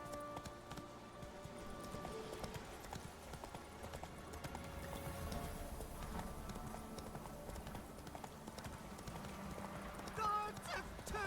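Horse hooves clip-clop steadily at a trot in Witcher 3, a continuous rhythmic patter under game music and ambience throughout.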